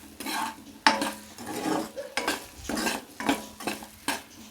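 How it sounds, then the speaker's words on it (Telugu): Potato and meal maker pieces lightly frying in a pan, with spoon strokes scraping and clinking against the metal in repeated bursts over a soft sizzle. "ఇవి లైట్గా ఫ్రై అయితే సరిపోతాయండి"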